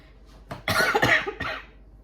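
A few harsh, close coughs in quick succession, loud against an otherwise quiet background.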